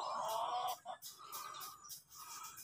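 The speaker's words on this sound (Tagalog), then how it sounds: "Si kuya, nag-aalaga ng mga manok." Backyard chickens tended on a rural Filipino property, clucking close by in several short bursts with brief pauses between calls.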